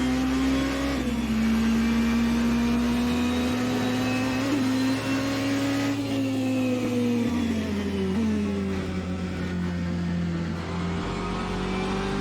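The LM Hypercar A480 in Assetto Corsa howls at a steady high pitch, rising and dipping through gear changes, loud and continuous, with no talking.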